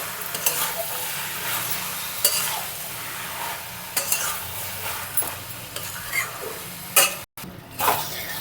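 Cabbage curry with fish head cooking in a pan: continuous sizzling and frying with occasional stirring scrapes and clinks, fairly loud and close, no talk.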